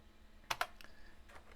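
A few quick keystrokes clack on an old computer keyboard of an IBM Model 70 or 80 PC, two sharp close taps followed by a couple of softer presses in a quiet room.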